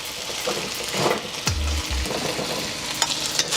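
Chicken chow mein fries in a hot wok, giving a continuous close sizzle with crackling pops and a short low thud partway through, with no voices.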